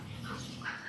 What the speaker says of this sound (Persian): این سگی میبینین که داره شروع میکنه به وق زدن